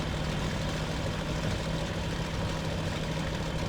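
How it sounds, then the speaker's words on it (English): Daimler-Benz 601 engine of a Bf-109 fighter in the IL-2 Sturmovik flight game, a steady, dense low drone that holds without change for the whole stretch, with no voices. "The sound of the Daimler-Benz 601 is amazing."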